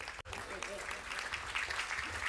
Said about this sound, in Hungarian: csak tapsoljátok meg